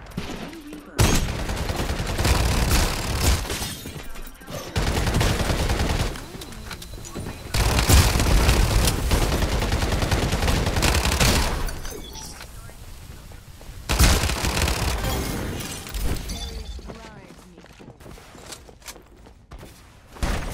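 Rapid bursts of gunfire in the battle game Farlight 84, loud and dense, with several sustained volleys and short pauses between them, a voice talking over parts of it.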